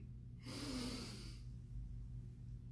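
One soft nasal inhale during a children's yoga exercise, a short airy breath lasting about a second against a quiet, low-humming room.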